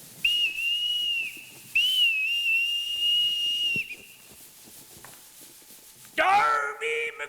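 A whistle sounds in a community theatre staging of Treasure Island, two long, shrill blasts held for over a second each, the second longer, then quiet stage noise before a voice cries out loudly.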